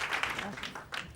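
Studio audience applause during a Macedonian TV talk show, steady and fairly close, with a voice talking over it throughout.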